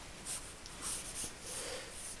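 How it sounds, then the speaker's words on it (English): Pencil or pen sketching a rough railway platform outline on paper for a model railway plan, several short scratchy strokes near and quiet, no talking. "So I just sketch down just the casual platform shape"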